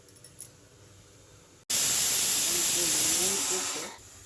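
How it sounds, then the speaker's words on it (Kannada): Pressure cooker holding lentils and pulses bursts into a loud, close rush of hissing steam with a faint whistling tone inside it, which holds steady and then tapers off. "ಅದು ಪ್ರೆಷರ್ ಹೋಗಬೇಕು."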